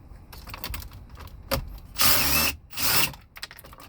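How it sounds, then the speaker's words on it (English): A power drill backs screws out of a Chrysler dashboard during an airbag and steering wheel replacement, with two short whirring bursts after some lighter mechanical clicks and handling noise, heard up close. "No problem once I get the screws all the way out."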